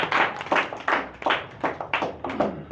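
Rhythmic clapping at a yoga championship event honoring Pandit Madan Mohan Malaviya, about six to seven evenly spaced bursts of claps, close and fairly loud, with no talking.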